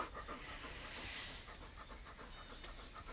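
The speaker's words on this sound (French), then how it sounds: "Ils n'ont pas l'habitude d'un grand toutou comme ça." A large dog pants close by in fast, rhythmic breaths that carry steadily through the whole moment, faint and slightly hissy.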